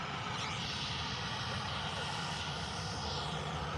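A Ryanair airliner passes at Manchester Airport, its engines giving a steady, broad roar that stays loud and constant throughout with no talking over it.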